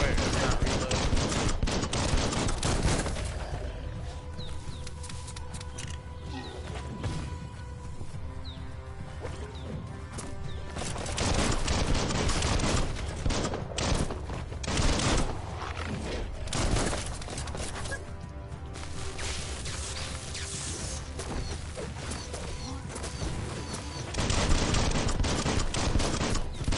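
Gunfire in the video game Biomutant, with dense, continuous bursts of rapid shots and crashing impacts over a loud, busy game soundscape.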